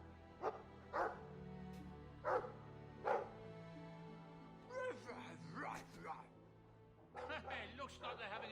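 A Mabari war dog in the video game Dragon Age 2 gives a series of short, punchy barks and yips, close and clear, interleaved with character dialogue.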